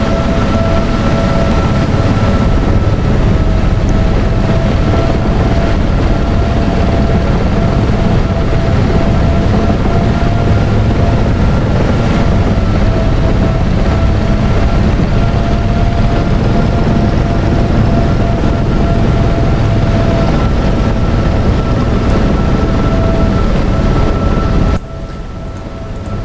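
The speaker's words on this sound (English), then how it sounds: "I am for a moment going to see if I can cause some of the sound effects that are associated with the Seaking" Simulated Sea King helicopter sound effects from the X-Plane 10 flight simulator, a loud, steady droning engine and rotor roar with faint whining tones, holding unbroken for about 25 seconds before dropping abruptly at the end.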